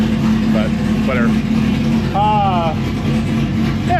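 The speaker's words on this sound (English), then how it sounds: "that sounds pretty good for a little blower cam" A supercharged car engine with a blower cam runs steadily at a low, even drone, with a voice talking over it partway through.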